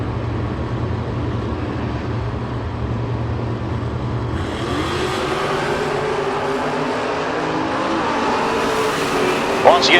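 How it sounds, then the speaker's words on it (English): Drag race at a door-car event with a Dakota pickup and a Chevy II: a steady engine roar builds and thickens as the cars accelerate away, loud and continuous under a faint announcer's voice. "Bartman, the Dakota pickup, going to be chasing after Ferrari in the Chevy 2."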